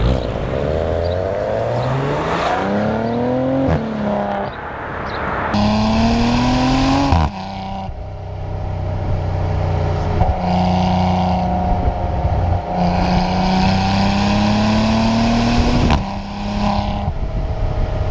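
A 2019 Maserati Ghibli S GrandSport engine and exhaust rev repeatedly, rising and falling in pitch through several loud pulls with brief drops between them, close up and with no talking.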